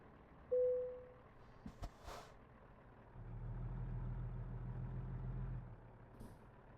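A truck engine idles in American Truck Simulator, a low steady rumble that swells up midway for a few seconds and then drops away, preceded by a brief tone and a couple of soft clicks, with no talking.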